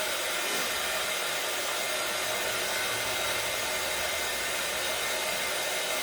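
A hair dryer blows on wet paint on a decorated wooden cutting board, a steady loud hissing whoosh of air and motor hum held without change for the whole stretch.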